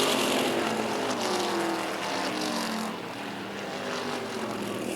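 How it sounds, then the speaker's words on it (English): Several race cars roar together down into turn 3, a loud, continuous engine drone that dips slightly and then holds as they enter the corner, with no talk. "Three cars under a blanket racing for the lead down into turn 3"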